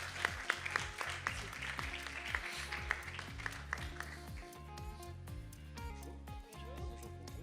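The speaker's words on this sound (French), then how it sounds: "On peut l'applaudir." At the Semaine Bleue 2021 award ceremony, a crowd claps for a presenter while loud ceremony music with a steady beat plays over it; the clapping is busiest in the first half and fades into the music.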